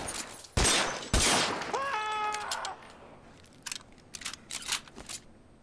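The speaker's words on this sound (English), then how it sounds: "Holy shit, a bloody shootout." Gunfire from a shootout in L.A. Noire Remastered: two sharp, loud shots ring out close together, then a brief tonal game sound, followed by a scattered volley of quicker, fainter shots.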